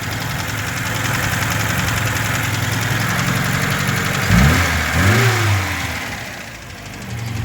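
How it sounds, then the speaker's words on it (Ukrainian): A car engine idles steadily with a light ticking rattle from the valves, then briefly revs up twice before dropping back to idle. "Торохтять клапанці."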